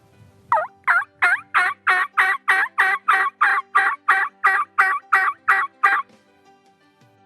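A hunter's turkey call with long hooks and an uppercut sounds a run of about fourteen evenly spaced, raspy yelps, loud and close, followed by a short quiet stretch.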